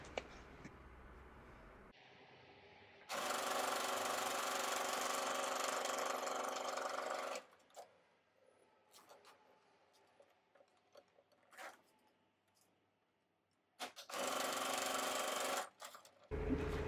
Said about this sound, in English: we're going to sew just a line on the edge as we did before